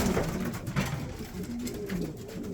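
Adana pigeons, a Turkish breed with a decades-long lineage, coo in a coop, low repeated calls overlapping one another at close range alongside rustling and soft background noise.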